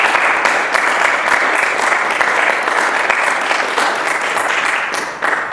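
Sustained audience applause fills the whole stretch, loud and steady, a dense wash of clapping from a crowd at a library poetry event.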